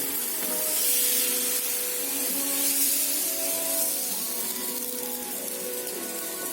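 Pancake batter poured into a buttered pan sizzles with a soft, steady hiss, a few faint tonal clinks and scrapes rising over it close by.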